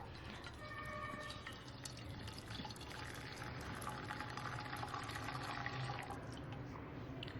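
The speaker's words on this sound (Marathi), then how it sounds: "गुळाचं पाणी थंड झालेलं आहे आता आपण हे गाळून घेऊया" Cooled jaggery water poured through a strainer for a wheat-slice snack batter, a faint, steady trickle and splash of liquid with light clinks, quiet and without talk.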